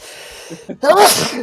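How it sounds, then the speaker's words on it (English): Quiet background hum on a live panel show gives way to one loud, nearby sneeze, a brief intake followed by an explosive burst that fades quickly. "Oh, I'm just sneezing, dude."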